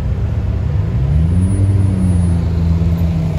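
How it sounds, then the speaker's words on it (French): A yellow Lamborghini Aventador SVJ drives past on a Monaco street, a loud, deep engine rumble that swells and holds steady as the car goes by close to the listener. "Aventador SVJ jaune."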